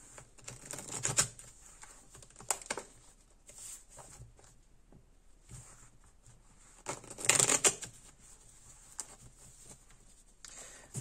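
Tarot cards shuffled by hand in a quiet room, soft riffling bursts and light papery taps coming at irregular intervals, fairly faint and close, with one fuller shuffle partway through.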